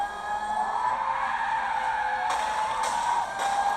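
A car drifts in a driving video game, tires squealing in a sustained, loud screech over a steady engine tone, with a few sharp bursts as the slide intensifies.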